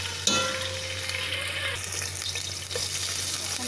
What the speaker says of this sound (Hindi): अब लहसुन अदरक का पेस्ट डालते हैं